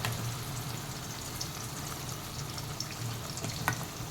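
Ground masala paste sizzles in plenty of oil while being sautéed for a spicy Khandeshi dubuk vada amti. It makes a faint, steady hiss with scattered soft crackles and small stirring clinks.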